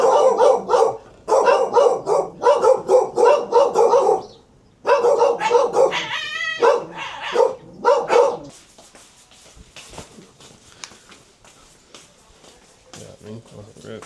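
Several friendly dogs bark in bursts on arrival at a local home in South Korea, loud and close at first, then fading to scattered quieter sounds while people talk over them.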